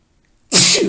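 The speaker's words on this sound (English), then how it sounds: "Excuse me, I feel like sneezing." A single loud, abrupt sneeze bursts out after a moment of silence, a sharp breathy explosion that trails off quickly, with no talking.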